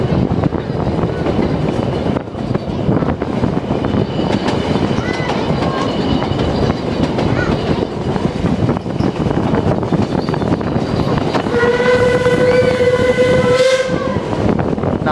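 A puffing train runs along the rails with a loud, steady rumble and clatter throughout, and a whistle blows near the end, close and dominant.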